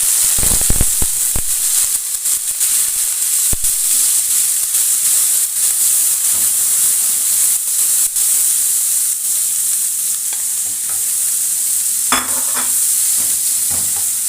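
Onion frying in oil in a pan, a steady close sizzle and hiss that runs throughout, with a few clinks and stirring scrapes against the pan and a brief sharper burst near the end.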